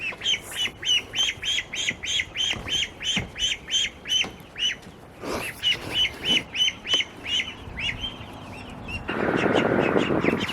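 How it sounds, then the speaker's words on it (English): Wild turkeys gobble and call in a rapid, rhythmic series of loud, fairly close squawking notes that continue for several seconds. The calls fade toward the end, where a broad rushing noise takes over. "Those were turkeys."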